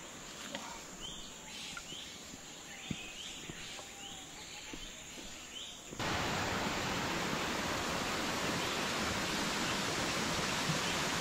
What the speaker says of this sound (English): And here we are, Purling Brook Falls.